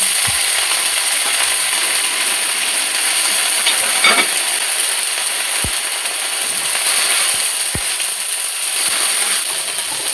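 Vegetables, including sweet potato, frying in a hot pan with a steady loud sizzle throughout, a few sharp utensil clicks and scrapes now and then, and no talking.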